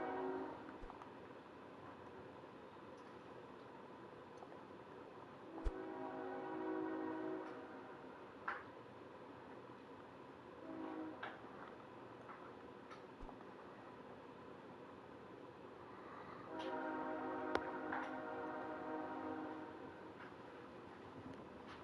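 Trains pass at a distance, their rumble rising and falling, with sustained horn blasts sounding twice under steady background hiss.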